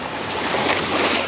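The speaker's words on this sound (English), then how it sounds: "You hear the water, besides the cars and stuff, but you hear the water" Water washing and lapping against a shoreline in the aftermath of a hurricane, a steady broadband wash with soft swells, close and continuous with no talk.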